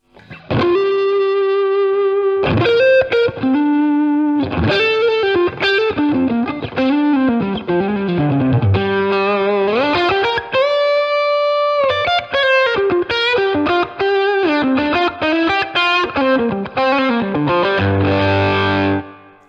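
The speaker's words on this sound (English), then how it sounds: "Let's just add in a sprinkle of reverb." A distorted electric guitar through a TONEX pedal plays a continuous lead line with bends and sustained notes, bathed in a spacious reverb tail, loud and alone.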